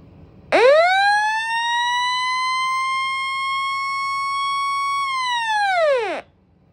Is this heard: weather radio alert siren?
yes